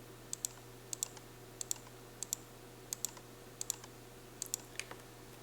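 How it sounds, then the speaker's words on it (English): Computer mouse clicks while the Control key is held to multi-select objects in 3D skybox editing software: about eight quiet paired clicks spaced at a steady rhythm, close and isolated, with no talking. "So I'm holding Control and I'm clicking."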